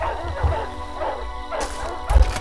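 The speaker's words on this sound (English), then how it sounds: "Hear that? There are more dogs below." War dogs in the game The First Templar bark several times at uneven intervals, sounding somewhat distant and echoing, with a heavier thud near the end.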